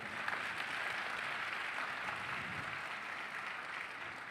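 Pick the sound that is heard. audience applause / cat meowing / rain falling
audience applause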